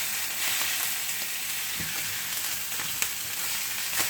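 A veal chop sizzles steadily in a frying pan, a dense, even hiss with a few faint pops and a brief tap of a utensil partway through.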